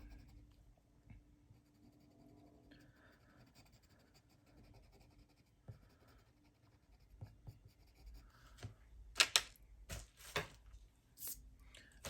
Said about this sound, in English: putting down a thick layer of the black Prismacolor colored pencil